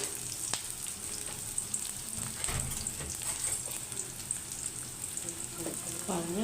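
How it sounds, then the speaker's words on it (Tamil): Onions and salt sauté in a pan for a drumstick leaf stir-fry, a continuous close sizzle with occasional stirring scrapes and clicks, and a spoken voice faintly underneath. "கொஞ்சம் வெங்காயம் போட்டுட்டு கொஞ்சமாக உப்பு போட்டு நல்லா வதக்கணும்"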